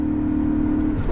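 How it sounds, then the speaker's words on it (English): A BMW E39 M5 engine held at redline as the clutch slips, a loud, steady high-revving drone with a sustained tonal whine from start to finish. "was right at red line holding it because the clutch was just slipping after the tires broke loose briefly"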